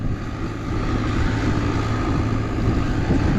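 A diesel truck pulls a big trailer load of hay, its engine giving a steady, loud, low rumble with wind-like roar that holds constant throughout, with no voices.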